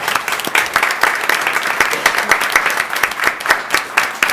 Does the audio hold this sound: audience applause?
yes